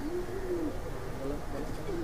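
An Oman bloodline Teddy pigeon coos in a few low, wavering calls close by, over a dense, steady background hum.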